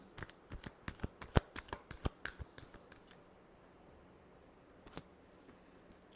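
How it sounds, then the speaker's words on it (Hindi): A deck of tarot cards is shuffled by hand in a quick run of crisp riffling flicks over the first few seconds, then a quieter pause with one more snap near the end, close and dry with no talk. "Last shuffle."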